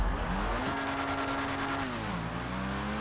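A car accelerating hard in a parkour driving game, its engine note climbing steadily and loud with a rising tone that then dips and levels off, no voices.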